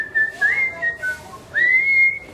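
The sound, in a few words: whistling to imitate a man whistling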